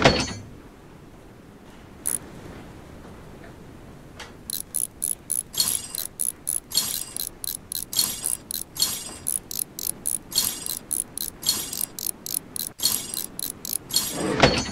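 A ratcheting wrench unscrews parts in the Train Mechanic Simulator 2017 video game, giving a long run of quick, evenly repeated metallic clicks in bursts, close and crisp over a low background hum, with no voices.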